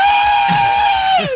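A female football fan at a broadcast game lets out one sustained, very high-pitched scream that holds steady for over a second before dipping, loud over a low crowd rumble.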